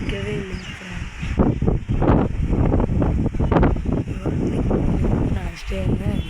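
Strong wind blows through a village in the windy season, roaring in gusts against the microphone and rising and falling for several seconds, with a faint voice underneath.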